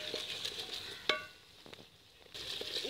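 Onion fries in a pan as garlic and ginger are added, a soft, quiet sizzle broken by one sharp clink of a utensil partway through.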